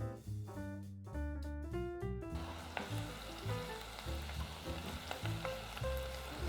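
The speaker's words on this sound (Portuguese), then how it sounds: "O sal vai fazer com que a cebola e o alho soltem o líquido mais rapidamente e não venham a queimar." Onion and garlic sprinkled with thyme salt sizzle softly in a pan, a quiet crackling texture running beneath background music.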